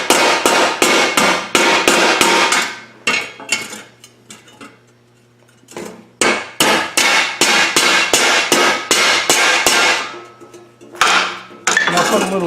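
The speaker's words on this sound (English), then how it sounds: "Put a hammer in here like this and knock this down." A hammer strikes sheet metal on a whale sculpture in fast, loud runs of sharp metallic blows, with a short quiet gap in the middle before the pounding resumes in bursts.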